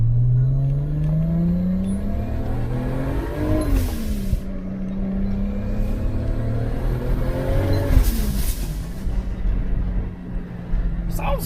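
A turbocharged Lexus GS300 on a test drive after a blown differential and new driveshaft, its engine pulling through rising gear sweeps with shifts, loud and close from inside the car.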